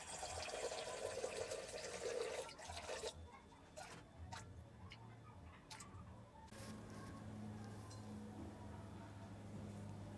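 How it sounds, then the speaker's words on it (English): About 360 ml of water poured into a container on a kitchen weighing scale for bread-machine dough: a steady, loud splashing pour for a few seconds, then quieter clicks and taps over a low hum, with faint bird clucks in the background. "We'll start by weighing out the water."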